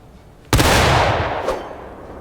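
A rifle volley fired in War of Rights, one loud simultaneous crack of many muskets that rolls into a long echoing decay, followed by a fainter second shot.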